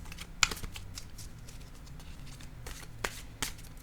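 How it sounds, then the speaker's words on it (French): A tarot card set down on a table makes a few soft, brief taps and slaps, with faint shuffling rustle between them against a quiet background. "Je vais déposer une carte maintenant."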